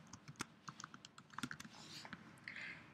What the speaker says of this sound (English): I'm just going to click on the document and type in the words that I want.